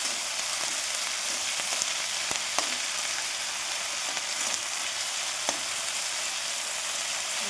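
Food fries in oil in a pan with a steady, even sizzle and a few soft stirring clicks, heard close and without any talking.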